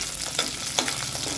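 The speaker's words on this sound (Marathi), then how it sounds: "त्याच्यामध्ये 5-6 हिरव्या मिरच्या, 7-8 पाकळ्या लसूण, थोडासा आल्याचा तुकडा भाजून घ्यायचा" Green chillies, garlic cloves and a piece of ginger fry in a little oil in a kadai, making a close, steady sizzle with a couple of quick stirring clicks in a brief moment.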